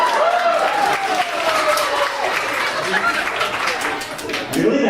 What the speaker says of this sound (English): That got an applause here?